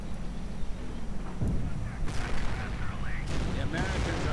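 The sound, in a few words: explosions and gunfire in a WWII strategy video game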